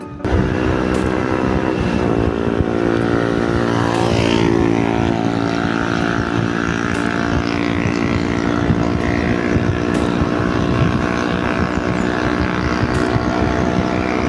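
A loud, continuous exhaust on an Xtreme 125 motorcycle rumbles steadily throughout, with a rough engine drone and some wind noise, and nobody speaks.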